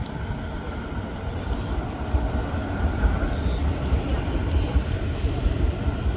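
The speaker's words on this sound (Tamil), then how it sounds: "அடுத்த விமானம் போகுது" An airplane flies overhead in Norway, a continuous low engine roar that builds gently and holds steady, fairly loud and unbroken.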